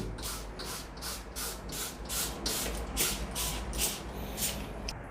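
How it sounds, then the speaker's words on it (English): Rapid repeated hissing bursts of a trigger spray bottle spraying neem oil onto a plant, about a dozen pumps in steady rhythm, close by with no talking. "So I'm just going to give you a generous spray."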